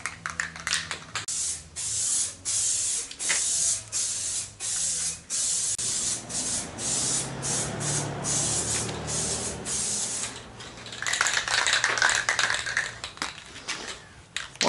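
Aerosol spray can applying clear coat to a Nissan Skyline R33 GTST front bumper, close hissing bursts in a rapid series of short sprays, then longer steady passes and a strong final burst, with no talking.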